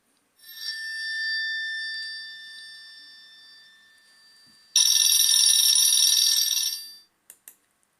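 A telephone rings with a steady electronic trill, then a louder, harsher ringing burst follows before it cuts off with a couple of clicks.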